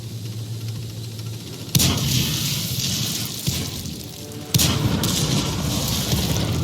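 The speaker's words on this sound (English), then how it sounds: "Artillery." Artillery fire in the World of Tanks console game on the Mines map: three loud, sharp booms land over a steady rushing, rain-like noise, with no talk.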